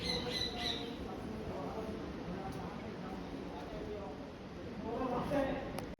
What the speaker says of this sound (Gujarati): પક્ષીઓ અહીંયા ઘણા બધા છે